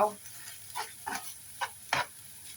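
Pork stir-fried in a pan for a Thai coconut curry with eggplant: several short, distinct scrapes and stirring strokes over a faint background sizzle, close and fairly quiet.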